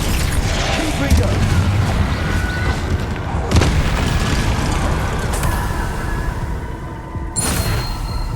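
Confringo fire spell blasts in the game Hogwarts Legacy, booming explosions with a sharp burst near the start and another near the end over dense rumbling combat noise.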